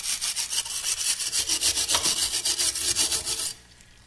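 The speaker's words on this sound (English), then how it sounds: "just take the brush and start scrubbing away." Brush scrubbing soot off soaked parts of a Svea 123 camping stove, a steady back-and-forth scratching of roughly twenty quick even strokes, loud and close, stopping abruptly near the end.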